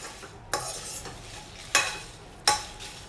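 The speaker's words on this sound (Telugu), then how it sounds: "ధనియాలు, రెడ్ చిల్లీ యాడ్ చేసిన తర్వాత కొంచెం పచ్చివాసన పోయేంత వరకు ఫ్రై" Coriander seeds and dried red chillies being stirred in a hot pan, three distinct scraping strokes of a spoon over a steady low sizzle, close and alone.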